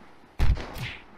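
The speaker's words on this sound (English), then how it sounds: "Oh, I sniped you." A single sniper rifle shot fires in the survival game Unturned: a sharp, loud crack with a short rumbling tail, heard alone against a low background.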